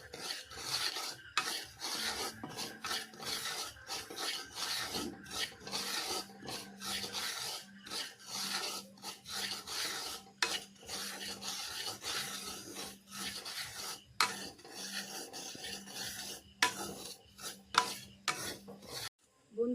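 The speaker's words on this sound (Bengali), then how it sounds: "গ্যাসে একটা কড়াই বসিয়েছি কড়াইটা গরম হয়ে গেছে এবার আমি এর মধ্যে হাফ বাটি সুজি দিয়ে দিলাম দিয়ে সুজিটা হালকা ভেজে নিলাম" Semolina being dry-roasted in a hot wok on a gas stove, stirred constantly: repeated rasping, scraping strokes of a spatula against the pan in an uneven rhythm, close and fairly quiet with no talking.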